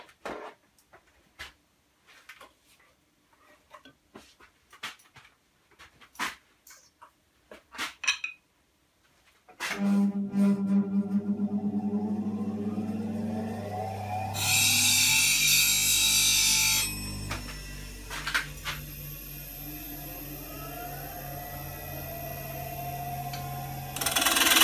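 A wooden lidded-box blank is parted on a woodturning lathe: scattered light taps and knocks at first, then a steady motor hum with loud, close scraping and cutting bursts from the tool biting the spinning wood.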